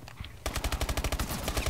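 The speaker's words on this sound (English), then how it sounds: "someone just shot me when I tried to switch my gun" Rapid automatic gunfire in a run-and-gun video game, a steady burst of close, loud shots that starts abruptly and continues without talking.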